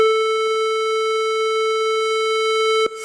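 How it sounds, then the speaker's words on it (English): A square wave tone from Nintendo Game Boy audio hardware emulated in Elm, a loud, buzzy, hollow steady pitch rich in overtones, held for about three seconds before stopping abruptly with a faint click. "It's a square wave, and it sounds like this."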